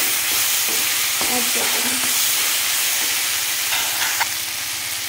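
Chopped large tomato roasting in a pan under constant stirring makes a steady, close sizzling hiss with faint scraping, and a brief spoken remark comes near the end.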